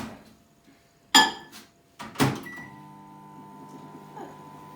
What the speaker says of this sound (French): Et 30 secondes au micro-ondes.